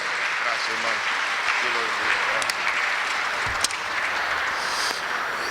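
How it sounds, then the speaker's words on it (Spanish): Warm welcome applause at a religious retreat in Mexico, steady crowd clapping running throughout with a voice speaking over it. "Lo vamos a recibir con un cariñoso y fuerte aplauso de bienvenida a México"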